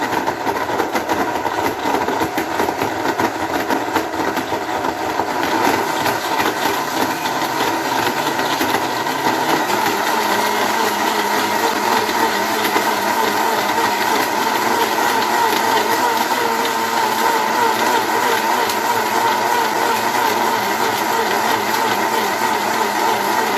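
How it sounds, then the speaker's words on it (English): A blender blending fruit whirs steadily at high speed for the whole stretch, a loud, continuous motor drone with a slight shift in pitch partway through. "So we're going to blend this up."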